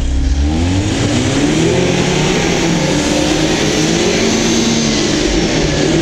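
Lada Niva and Renault Duster engines rev hard together during a tug-of-war off asphalt, a loud continuous roar whose pitch wavers up and down over deep rumble, with no talk.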